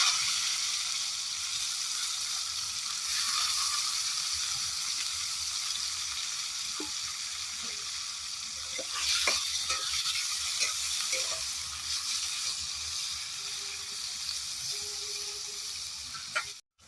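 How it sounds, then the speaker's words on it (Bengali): Tomatoes fry in hot oil tempered with cumin for a rohu fish curry. A loud, continuous sizzle runs throughout, with scraping stirs in the middle section. "এবার টমেটোগুলো তেলে ছেড়ে দেবো"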